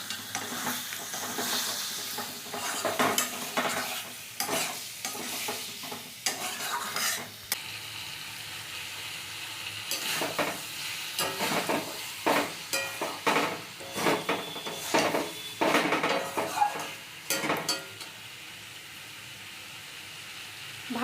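Chicken mince curry with carrot, beetroot and potato is stirred and fried in a pan with a splash of water, giving continuous sizzling broken by irregular scrapes and clinks of a spatula, close up with no talking.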